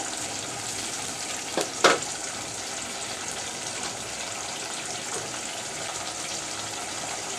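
Ginger, garlic and onion paste being sautéed in a pan: a steady, close sizzle runs throughout, with a couple of brief scraping stirs near the start.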